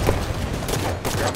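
Rapid gunfire from Halo 5: Guardians, a short dense burst of overlapping shots filling a brief moment at steady loudness.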